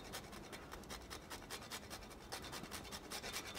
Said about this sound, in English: Finally, we need to garnish it with some nutmeg on top.